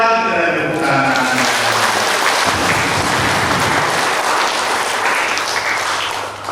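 Wedding guests at a church marriage blessing clap for the newlyweds in a sustained, dense wash of applause, with a speaking voice audible early on before the clapping fills the room and tapers off at the end.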